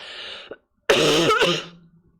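A single harsh cough or throat-clearing burst, close and fairly loud, after a brief breathy sound and a short pause.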